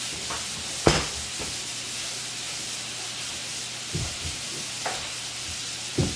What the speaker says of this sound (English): I'm making sweet and sour meatballs.